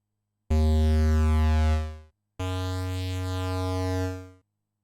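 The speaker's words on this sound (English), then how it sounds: "and a square wave." Two sustained notes from an analog synth oscillator set to a square wave, a hollow buzzy tone, each held about one and a half seconds with a brief gap between them, loud and alone.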